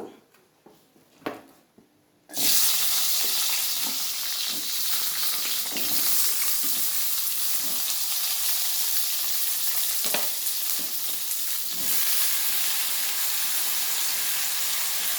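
Oil heats in a pan for egg curry, a few soft clinks and taps at first, then a loud, sudden sizzle that settles into steady frying with occasional pops.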